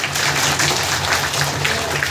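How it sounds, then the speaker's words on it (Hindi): Audience applause at a Kendriya Vidyalaya school welcome ceremony, an even, continuous patter of many hands clapping with a low hum underneath, moderately loud throughout. "चलिए जोर शोर से फिर से एक जोरदार तालियां"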